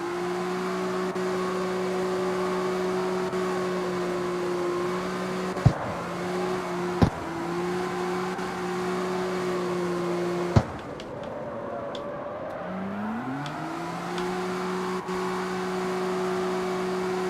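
A Mazda MX-5 fitted with an RB26 engine drives in CarX Street, giving a steady droning engine tone that holds mostly level, with a few sharp clicks and a brief dip before the pitch climbs again as it pulls away.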